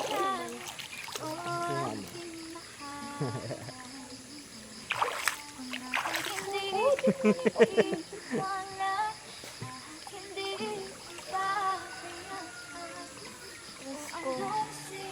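People bathing splash and slosh water near a hot bathing spot, with irregular splashes and trickles under almost constant conversation.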